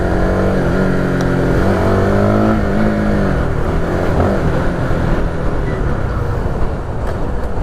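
A Honda Supra GTR 150 motorcycle engine revs up loudly and close by, with rising and falling pitch sweeps over a rough idle, no talking.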